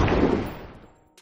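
A single gunshot booms and rolls away into a decaying echo, followed by a faint click.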